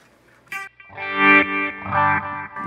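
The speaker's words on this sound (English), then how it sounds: "And now let's add a reverb at the end of the chain here." Electric guitar played through a Line 6 Helix with chamber reverb at the end of the chain, a short pick noise followed by two sustained, effected chords that ring out with a lush, spacious tail.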